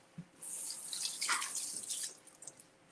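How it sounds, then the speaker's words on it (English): Blackberries are rinsed under a running kitchen tap, making a soft hissing stream that splashes over the fruit and lasts for a couple of seconds, with a faint drip beforehand and nobody talking. "rinse off some blackberries"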